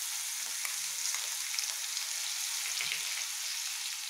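Spices sizzle and crackle in hot oil for a tadka, a steady loud hiss with small pops, close up and without voices.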